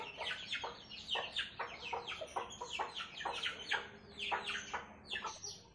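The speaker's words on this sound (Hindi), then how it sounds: "आप लोग अभी मेरा बहुत सारा मुर्गा मुर्गी देखे।" Domestic chickens, hens and roosters kept in a household flock, cluck in quick, repeated bursts, close by and moderately loud, with a few short chirps mixed in and no speech.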